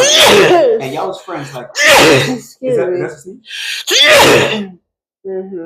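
A person sneezes after smoke gets in their nose, several sharp loud sneezes close by, interleaved with nearby conversation.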